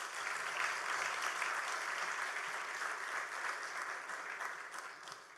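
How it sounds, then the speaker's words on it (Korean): Sustained audience applause fills a hospital dedication ceremony at Yongin Severance Hospital, steady and dense throughout with no talk over it, easing slightly at the end. "다시 한번 박수 부탁드리겠습니다"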